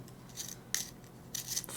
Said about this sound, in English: that's how the General's pencil sharpener sharpens stuff